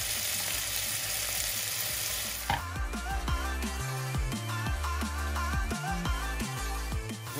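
Peppers, tomato and garlic fry in a pan for cabbage soup, giving a steady close sizzle and crackle broken by scraping and stirring clatter partway through, with no talk.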